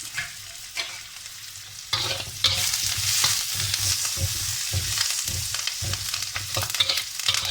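Onion and curry leaves fry in a pan for a Kerala-style lobster masala, starting with a quieter sizzle, then a louder burst as they go in, followed by steady frying and repeated stirring scrapes without talk.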